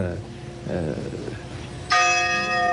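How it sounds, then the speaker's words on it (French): A church bell rings out clearly and strongly for the last second, following a stretch of murmuring voices and background sound. "en ce moment, vous entendez cette cloche, par exemple."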